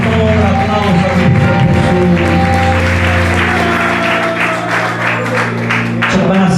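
A church congregation at a group anniversary service in Tunajá, Quiché, breaks into loud, sustained applause that runs continuously over a strong musical or crowd hum.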